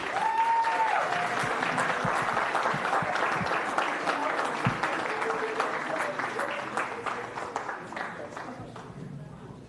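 Sustained applause from a large crowd at a school board meeting, dense and steady throughout, slowly thinning toward the end, with a few voices faintly mixed in.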